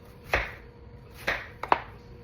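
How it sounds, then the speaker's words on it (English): A knife slices through an onion on a board, three separate cuts standing out crisp and close: two spaced strokes, then a quick double cut near the end, with a quiet room between them. "Now we're gonna slice the onion."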